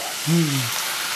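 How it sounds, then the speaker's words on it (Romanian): Pepper paste fries in a hot pan for a lamb soup, a steady close hiss and sizzle across the whole moment, with a brief voiced sound briefly over it. "Gata, am prăjit pasta de ardei."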